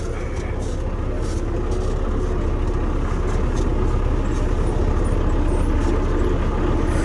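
An MTZ-82 tractor engine runs steadily and loudly close by as the tractor switches over and turns on autopilot, a continuous low rumble with no talk.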